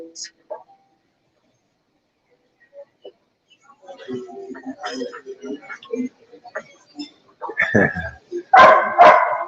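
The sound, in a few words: dogs barking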